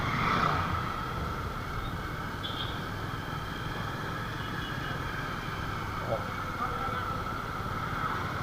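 Steady motorcycle engine drone with heavy wind rush, a continuous ride at even speed.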